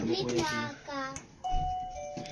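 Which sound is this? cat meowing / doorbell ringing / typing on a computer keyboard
doorbell ringing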